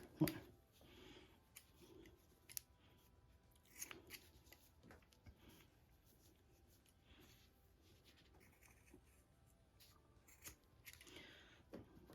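Scissors snipping through macrame cord on a small handmade bag, producing quiet, close, irregular cuts and rustles with short pauses between snips; no voices.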